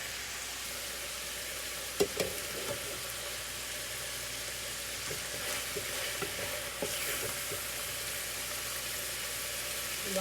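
Steak-umm cheesesteak meat frying in a skillet, a steady close sizzle with occasional scrapes and clinks from stirring, and a low background hum, no one talking.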